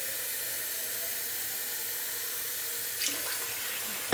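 Water runs steadily from a tap into a water bottle, a continuous close hiss and splash with a brief bump near the end, with no voices.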